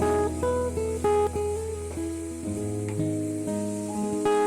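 Malabar spinach stalks sautéing in a pan, with a steady sizzle, occasional stirring knocks and a sustained tonal hum throughout, close and moderately loud with no talking.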